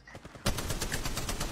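Rapid automatic gunfire in the mobile battle royale Apex Legends Mobile erupts after a quieter opening, a steady loud burst of evenly spaced shots that continues to the end.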